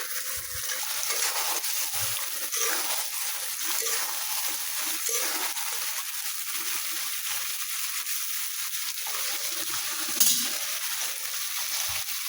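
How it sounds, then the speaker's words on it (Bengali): Meat being slowly stirred and browned in a pan, with a steady low sizzle and occasional scraping knocks of the spoon against the pan throughout, close and continuous with no talking. "এখন আমি আস্তে আস্তে মাংস নাড়বো"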